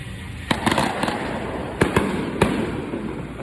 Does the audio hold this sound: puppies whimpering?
no